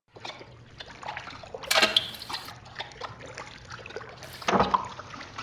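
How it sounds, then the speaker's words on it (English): Liquid sloshes and trickles in a toilet stall as a horror audio-drama effect, soft wet dribbles with two louder splashy bursts, close and fairly quiet. "he heard sloshing coming from the stall"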